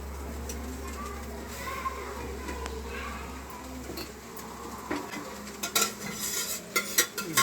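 Boiled chana dal is stirred and fried in a kadhai for puran poli, with a spoon scraping and clinking against the pan in irregular knocks over a low hum and faint background voices.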